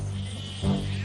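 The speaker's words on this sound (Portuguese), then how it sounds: "onde ele estava com suas ovelhas e cabras" A single short bleat, like a sheep or goat, rises briefly out of a low, steady rural background hum. It sounds moderately near but not loud.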